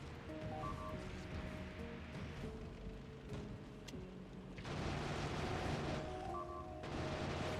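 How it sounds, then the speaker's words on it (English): Video game gunfire from turrets hitting walls and swarms of biters, dense rapid crackling shots and muffled blasts layered continuously, intensifying partway through. "shooting my walls to try and kill the biters and then destroying more walls"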